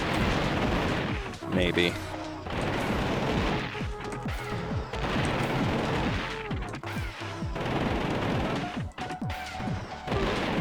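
Missiles fire and explode in the game Gato Roboto. Repeated crashing blasts and impacts pile up over a busy, loud game soundtrack with steady combat noise, and a voice speaks briefly over it.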